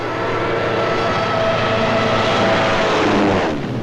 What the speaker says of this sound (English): Tanks, motorized equipment, and one of our own inventions, the dive bomber.